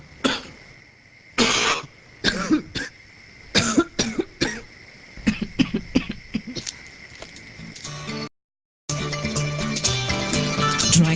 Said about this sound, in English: Dry cough, weak cough,